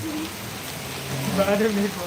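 Gentle rain patters without pause in Panthawada, a constant low hiss under a voice speaking close by.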